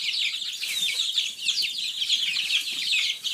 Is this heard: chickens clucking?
yes